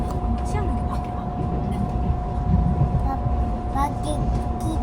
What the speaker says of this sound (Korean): 밖에 기차 지나가나 봐.